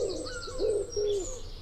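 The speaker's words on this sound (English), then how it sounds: "Here's the wood pigeon." A wood pigeon gives a soft, hooting coo of about three low rounded notes in a steady rhythm, played back alone and fairly clear against faint background hiss.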